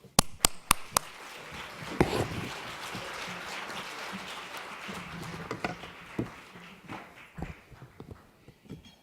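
Applause from a dinner audience at a charity gala rises after a few sharp claps into a sustained, moderately loud clatter of many hands, then thins out into scattered claps.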